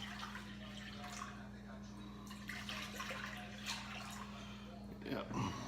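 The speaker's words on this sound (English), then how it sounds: "we're gonna add about 3 cups of water" Roughly three cups of water pour steadily into a slow cooker before dry ingredients and seasoning go in for skirt steak, a continuous splashing trickle under a low steady hum, with a person talking over it.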